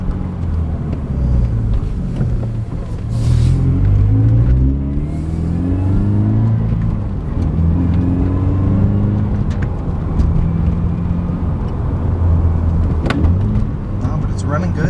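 A Subaru BRZ fitted with a FactionFab catback exhaust drones steadily while driving, its engine note stepping up and down through gear changes and downshifts, with people talking over it throughout.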